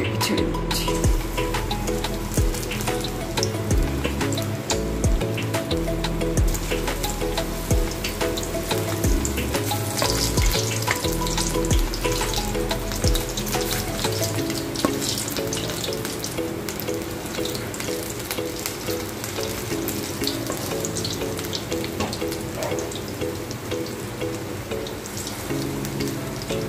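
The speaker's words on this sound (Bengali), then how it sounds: "পকোড়াগুলো এক এক ছেড়ে দিচ্ছি।" Water spinach pakoras deep frying in mustard oil in a kadai, giving a loud, dense, continuous sizzle and bubbling that stays steady throughout, with some clinks early on.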